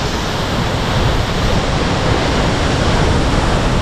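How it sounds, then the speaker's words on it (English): Shoshone Falls waterfall heard from behind the falling water, a loud steady broadband roar that stays constant throughout with no breaks and no voices. "We're behind the waterfall."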